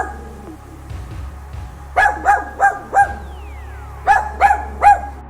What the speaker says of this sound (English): I'm officially being bullied by a cute wiener dog.